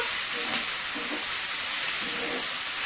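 Shrimp cooking in a pan for a Guyanese shrimp curry gives off a steady, close, even sizzle and hiss with no talking.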